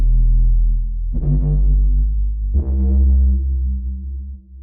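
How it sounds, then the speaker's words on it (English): Deep bass notes with reverb in a song's chorus, three long sustained tones with a soft attack and lingering tail, loud and alone. "this main bass in the chorus, I actually have some reverb on the bass"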